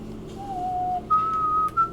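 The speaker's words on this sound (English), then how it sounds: "whistling exactly 2 notes of the Chrono Trigger song that I don't remember the name of" A person whistles two sustained notes from a Chrono Trigger song, the second higher than the first, clear and close, during a Metroid Prime randomizer game stream.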